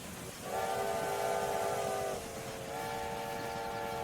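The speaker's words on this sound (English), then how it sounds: "Blow horn." A steam-style train horn in Railway Empire 2 sounds in two sustained chordal blasts, the first longer and louder, the second slightly lower, over a steady rail rumble at moderate distance.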